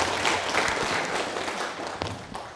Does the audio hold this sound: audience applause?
yes